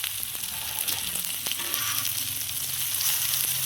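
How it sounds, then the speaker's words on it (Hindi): Daal shami kebabs fry in oil with a steady, close sizzle and scattered crisp pops, without any talking. "इसे आप अपने ऐसे करके आपने इन्हें तलाई कर लेना है, फ्राई कर लेना है"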